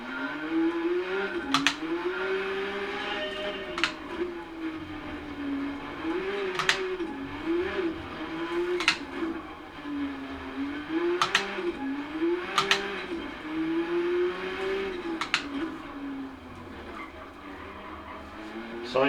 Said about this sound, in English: this time I'm going to be driving the Porsche 962 So it's more of a sort of GT car, a bit heavier to drive, soft tyres